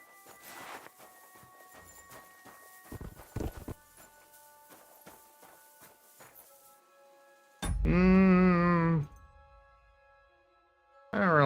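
Horse hooves clip-clopping at a walking pace, a run of sharp irregular knocks near the start, then a loud whinny-like vocal burst and another swell at the end.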